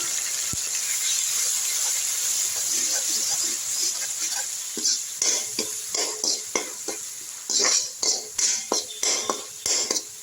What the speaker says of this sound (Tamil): இதிலே வந்து இஞ்சி பூண்டு பேஸ்ட்டு இதை போட்டுங்க நல்லா பச்சை வாசனை போகிற அளவுக்கு நல்லா வதக்கிட்டோம்